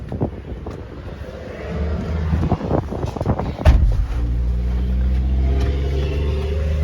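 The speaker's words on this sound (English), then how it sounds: "Now let's take you on a short test ride, show you how the vehicle drives." A 2015 Ford Explorer Police Interceptor drives on a test ride. The engine and road noise build into a steady, loud drone, with wind buffeting the microphone and a brief thump partway through.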